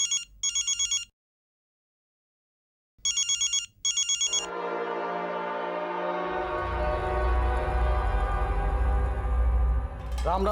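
A telephone rings in two short bursts of electronic trilling separated by silence, followed by a loud sustained hum and rumble of a vehicle or background drone.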